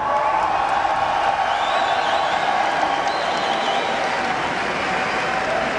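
An esports crowd at Gamescom cheers for SK Gaming during a League of Legends European Regionals match against Acer, a loud, sustained roar of applause and shouting that fills the whole stretch without letting up.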